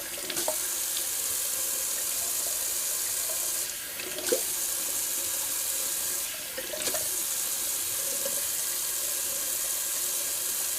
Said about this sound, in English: I'm just going to get some cold water cruising here.